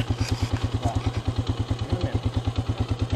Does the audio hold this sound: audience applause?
no